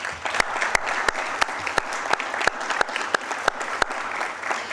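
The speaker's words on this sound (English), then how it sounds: "So let's give another round of applause to all of the 2020 award recipients." A crowd at a disability-employment organization's annual meeting applauds 2020 award recipients, a full, continuous burst of clapping with sharp, evenly spaced loud claps from one nearby pair of hands standing out above the rest.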